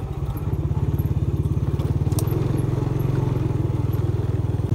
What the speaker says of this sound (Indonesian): Ini naik motor ke sini hati-hati